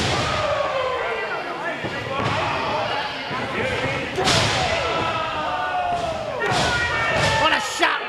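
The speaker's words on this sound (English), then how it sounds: "Oh, and a big right hand from Anthony Idol. Followed with a right hand from Muertes." Pro wrestlers at a live Southern California event trade punches and chops, landing as a run of sharp slaps and thuds under steady ringside commentary.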